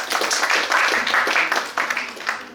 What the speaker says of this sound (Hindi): तालियां मारी